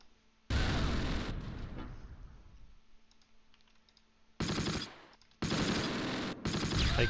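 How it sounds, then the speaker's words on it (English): Gunfire in the WWII strategy game Close Combat: loud bursts of rapid fire come in several long volleys, with quieter scattered shots and a low hum between them. "Okay, we're getting shot at from the front."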